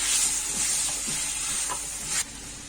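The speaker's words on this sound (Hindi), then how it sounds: "घी में गोश्त को अच्छे से फ्राई कर लूंगी।" Steady bright sizzle of mutton frying in hot ghee, with a few soft stirring scrapes; the hiss drops off abruptly near the end.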